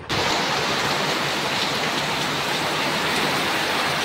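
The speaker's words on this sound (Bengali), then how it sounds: "কি জোরে জোরে আওয়াজ হচ্ছে বৃষ্টির, মুষলধারে বৃষ্টি হচ্ছে" Heavy rain pours down outside, a dense, steady, loud roar of drops that continues without a break.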